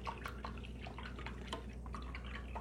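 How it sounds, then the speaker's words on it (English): Water rinsing something off during a craft session near a birdhouse: soft, faint dripping and trickling with scattered small splashes over a low steady hum, no voices. "I'm going to rinse that off"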